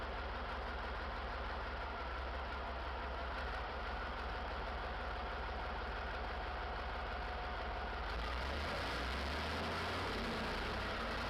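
A vintage flywheel tractor engine, the Type 402, runs with a steady low chugging idle, and the sound grows louder and rougher near the end.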